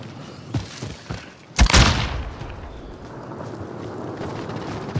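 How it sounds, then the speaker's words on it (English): A frag grenade detonates in Call of Duty: Modern Warfare, a single sharp, loud blast near the middle of the clip that decays into a rumbling tail over steady battlefield ambience. "Grenade out! Toss it a frag!"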